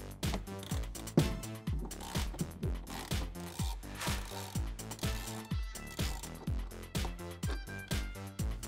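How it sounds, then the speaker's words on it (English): Rapid, steady clicking from an 8mm socket ratchet removing trim bolts in a Jeep Wrangler JL wheel well. The close clicks run in quick rhythmic strokes with brief pauses between them, and nobody talks. "You're going to need an 8mm socket, and we can remove the 3 bolts that are holding in this trim piece."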